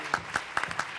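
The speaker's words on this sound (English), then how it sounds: "we'll give him a round of applause" A handful of sharp, separate hand claps at a symposium, about five evenly spaced slaps in one second, fairly quiet, like a small audience starting a round of applause.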